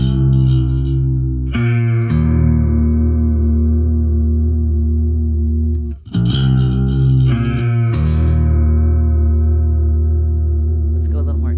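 Electric guitar through a Waves Kaleidoscopes modulation effect at speed 144, giving a post-punk tone: several loud strummed chords ring and sustain with a wobbling, chorus-like shimmer and slight distortion, played alone with no voice.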